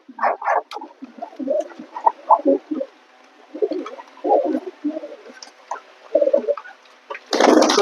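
Pigeons coo in low, throaty bursts through most of the stretch, near and moderately loud, ending in a sudden loud wash of noise like rushing water.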